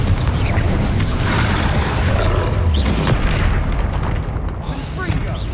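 Bombarda and Confringo spell blasts in Hogwarts Legacy, heavy booming explosions and bursts landing in quick succession over a dense battle din with spoken voices.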